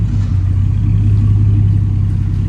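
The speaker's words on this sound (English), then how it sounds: "Sounds pretty good for a V6." A V6 engine in a lowered pickup truck rumbles loudly and close by, a deep, steady throbbing that holds through the moment without any voices.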